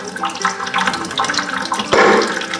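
Fluid drains from a truck into a bucket during a truck build, pouring as a steady close-up trickle and splash that swells into a heavier, louder gush near the end.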